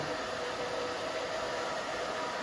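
A hair dryer blows steadily on a short pixie cut, a continuous close, even airy whoosh with a faint motor hum and no breaks.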